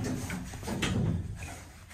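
Shopping centre lift doors slide shut in one steady, moderately loud sweep that lasts a couple of seconds, with no voices over it.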